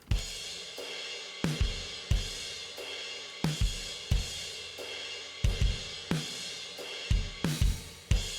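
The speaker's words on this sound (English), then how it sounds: "CLA 76 sounds like this." A full music mix passed through a CLA-76 compressor plugin, with punchy drum hits recurring every half second or so over sustained dense instrumentation, compressed and bright, no talking.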